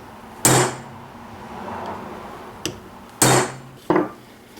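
A hammer strikes a paring knife handle pin resting on an anvil, four sharp metallic blows spaced irregularly, close and loud, with brief ringing decay after each hit.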